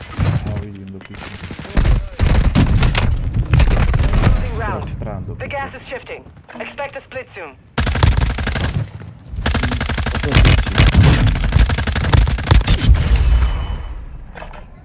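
Rapid bursts of gunfire and booms fill a Call of Duty Warzone 2.0 match, dense volleys broken by short gaps, while players talk over the shooting.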